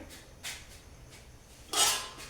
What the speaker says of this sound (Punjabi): ਲਓ ਜੀ ਆਪਾਂ ਇਹਨੂੰ ਢੱਕਣ ਲਾ ਕੇ ਜਿਹੜਾ ਪੱਕਣ ਦਿੰਨੇ ਆ